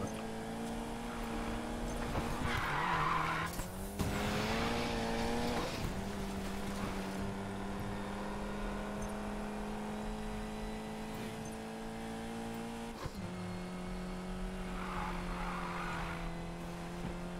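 In the video game Need for Speed Payback, engines whine steadily as tires squeal and skid in drawn-out, sustained screeches, with a few sharp shifts in pitch and no talking.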